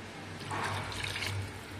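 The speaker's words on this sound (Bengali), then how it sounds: "তো পানিটা আর একটু দেব।" Water is poured into a cooking pot of potatoes and eggs in a brief, soft, splashing gurgle that swells and fades within a couple of seconds.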